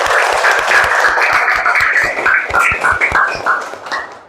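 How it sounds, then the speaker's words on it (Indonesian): Schoolchildren in a Hindu religious education class clap together, a dense, lively patter of many small hands with some rhythmic unison beats, close and fairly loud. "Tepuk tangan untuk kita semua dulu."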